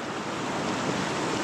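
A strong river current rushes steadily, a dense, close wash of water noise with no break or voices, met while riding a gravel bike route.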